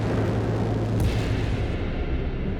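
Gunfire-like boom from a sniper bullet in the video game Children of the Sun, a dense, sustained rumble with a brief sharper burst near the middle, loud and continuous throughout.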